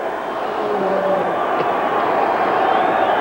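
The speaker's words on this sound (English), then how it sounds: "The fans just gave John Helton a big hand." Stadium crowd at McMahon Stadium during a 1978 CFL West semi-final football game, a broad steady wash of applause and cheering from a large distance with no clear breaks.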